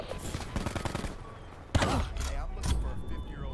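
Video game gunfire from a DAEMON 3XB MKII gun: a rapid burst of shots, then a sharp loud report followed by further bursts, close and prominent.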